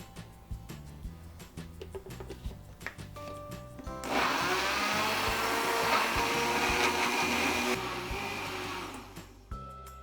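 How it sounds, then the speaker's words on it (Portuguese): A kitchen blender whirs loudly for several seconds, blending ripe sliced bananas into a smooth cream, starting abruptly and cutting off before brief quieter handling sounds. "E liquidificar até formar um creme liso."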